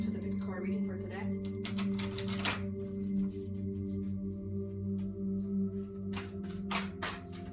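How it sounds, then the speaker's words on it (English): Tarot cards being shuffled by hand, giving repeated crisp riffling bursts in uneven clusters over a steady low hum. "I'm going to shuffle to get a few more cards"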